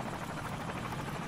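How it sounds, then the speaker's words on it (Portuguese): A Call of Duty 4 killstreak helicopter drones with a steady rotor whir, sustained and fairly even for a brief moment with no talk. "Pegamos o helicóptero."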